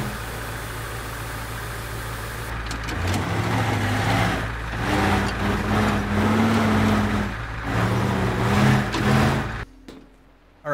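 Truck engine in a video game, idling low then revving and rumbling steadily as the vehicle drives through a destructible wall, loud and continuous before cutting out near the end.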